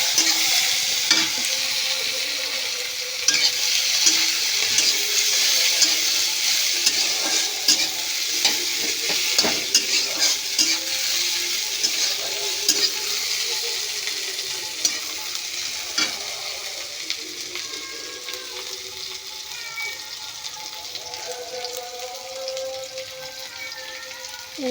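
Chopped onion sizzles steadily in hot oil while a utensil stirs and scrapes the pan. It is for a Bengali drumstick vegetable curry, and the frying crackle runs close and continuous throughout.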